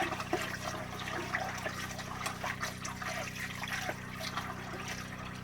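Rice being washed under lukewarm tap water in a kitchen: continuous running and trickling water with soft splashes and swishing as the grains are stirred, accompanied by a low steady hum.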